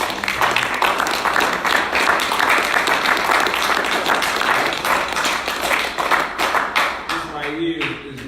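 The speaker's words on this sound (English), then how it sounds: "Give yourselves a round of applause." An audience at a religious gathering claps and taps in a dense, continuous burst of applause that gradually thins toward the end, with voices calling out beneath it.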